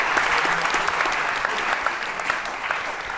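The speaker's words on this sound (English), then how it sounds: "I got to applaud Chip Monk." A crowd at a festival gathering breaks into dense, continuous applause, steady and full throughout with no voices standing out.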